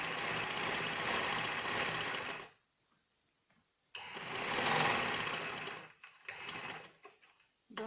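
Sewing machine stitching a shirt runs in loud bursts, a steady mechanical whir that stops, restarts for a longer run, then cuts in briefly again, with no talk.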